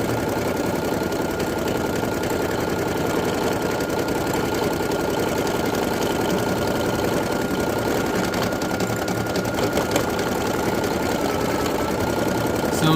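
An embroidery machine stitches a Halloween patch with a steady, rapid mechanical chatter and hum, loud and unbroken throughout.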